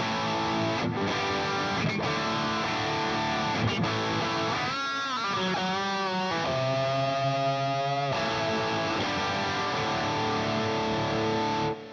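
Distorted electric guitar playing sustained chords and a melodic run, with echoing repeats trailing behind the notes, loud and continuous with no talking.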